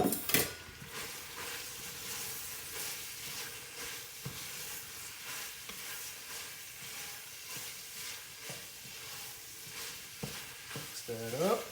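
Sausage and spinach sizzle steadily in a pan while being stirred, with scraping and clinking of a utensil against the pan throughout; the sound stays moderately loud and continuous, with a brief voice at the start and end.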